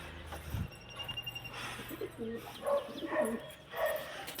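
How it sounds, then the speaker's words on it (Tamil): Pigeons of several varieties, including racing homers, cooing softly in a pigeon loft, low rolling coos repeating in short bursts with a brief knock early on and faint background noise. "எல்லா வெரைட்டி புறாவும் இருக்குது காய்ஸ் நம்மகிட்ட."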